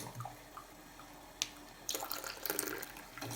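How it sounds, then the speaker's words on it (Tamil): Hot black coffee is strained and poured, giving a soft, close trickle and splash of liquid that rises after a brief clink and continues faintly for a few seconds. "இப்போ வடிச்சிக்கிறோம்."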